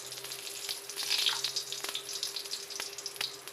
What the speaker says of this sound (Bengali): আর একটু জিরে।